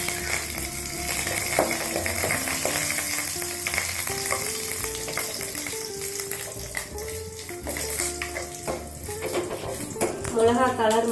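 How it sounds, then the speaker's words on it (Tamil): Chillies and curry leaves sizzle and crackle in hot oil for rasam, with steady frying hiss, occasional spatters, and clinks of a stirring utensil against the pan. "பொரிஞ்ச உடனே ரெண்டு மிளகாய் போட்டுக்கலாம். கொஞ்சம் கருவேப்பிலை சேர்த்துக்கலாம்."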